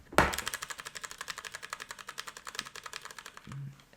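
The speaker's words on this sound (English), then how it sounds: "I have the DOS keyboard, so it's an MX Brown switch, and I'm gonna put this behind the microphone" Fast, steady typing on a mechanical keyboard with MX Brown switches, heard from the front of a USB microphone: a dense run of crisp clicks close and fairly loud, with no talk.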